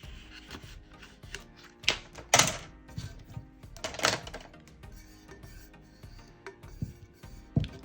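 Excess vinyl being trimmed off a glitter tumbler with a craft blade: a run of soft, uneven cutting clicks and scrapes, with a few sharper snaps standing out, close by and fairly quiet.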